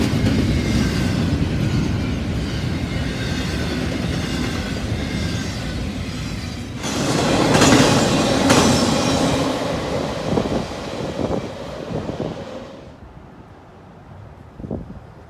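A freight train with intermodal container cars rumbles past nearby, a broad steady roar with wheel clatter and wind noise that fades away toward the end.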